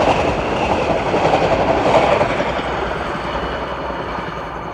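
A steady rumbling clatter of a small Thomas and Friends toy train running along its track at a toy train exhibition, close and continuous, fading slightly toward the end.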